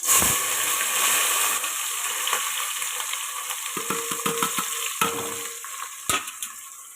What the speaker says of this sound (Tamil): தேங்காய் எண்ணெயும் நெய்யும் நல்லா காஞ்சிட்டு இந்த ஸ்டேஜில் ஆனியன் சேர்த்துக்கலாம்